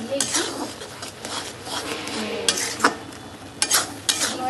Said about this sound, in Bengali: যতক্ষণ না শুকনো হয় ততক্ষণ না পর্যন্ত আমি একটু নাড়তেই থাকবো।